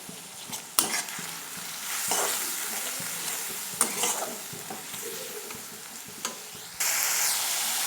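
Coriander and cumin powder sizzle in hot oil for a tangra fish curry as a spoon stirs them, giving a steady frying hiss broken by sharp scraping clinks, with no talking.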